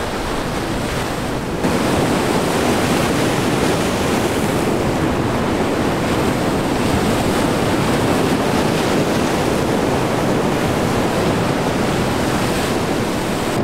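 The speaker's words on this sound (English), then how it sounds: "Waves are breaking pretty hard, and there's no visibility out here." Heavy surf breaking hard on a foggy winter beach, a continuous loud roar of waves with wind buffeting the microphone throughout, no voices.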